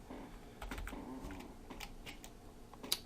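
Soft, quick tapping on a computer keyboard, quiet irregular clicks over a low background hum, with one sharper keystroke near the end.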